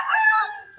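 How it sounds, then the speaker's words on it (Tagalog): A rooster on a large poultry farm in Pangasinan gives a short, close, loud crow that trails off, with a brief cluck-like sound at the end. "Look at this chicken."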